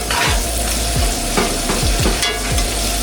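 Beef heart caramelizing in a cast iron pan on a new Coleman stove gives a loud, steady sizzle and crackle, with repeated scraping as it is stirred, heard close with no talking.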